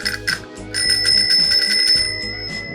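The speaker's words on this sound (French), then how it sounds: "Vraiment dommage, cette petite sonnette complètement éclatée." A small repaired bicycle bell rings loud and close, two quick dings followed by a longer sustained metallic ring with a shimmering tail.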